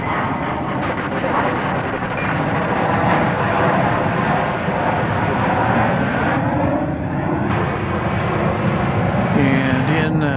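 Continuous airliner engine rumble and whine at DFW Airport at night as Qantas Flight 8 waits in the takeoff queue, a steady broadband roar from nearby aircraft with a commentator talking over it.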